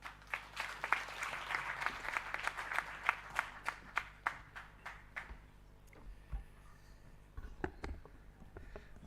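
Audience applause at the launch of the International Decade of Indigenous Languages, a burst of many hands clapping that thins out into a few scattered claps before fading.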